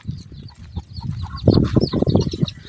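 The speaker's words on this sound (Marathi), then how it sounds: "आम्हाला कोंबड्या दाखवण्याची वेळ आली" Chickens and small chicks clucking close by on a farm, a busy run of overlapping clucks and cheeps that grows louder halfway through, with no talk.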